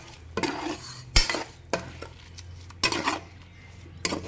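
A spoon stirs ground masala for egg biryani in a metal pan, scraping and clinking in several sharp strokes spaced about a second apart over a low background, close by with no talk.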